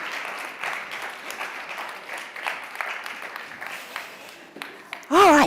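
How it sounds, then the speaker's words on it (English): Audience applause at a panel event on gender equality and democratic institutions as speakers walk off the stage: dense, steady clapping from a crowd, with a brief voice speaking right at the end. "You'll be applauded as you walk off the stage."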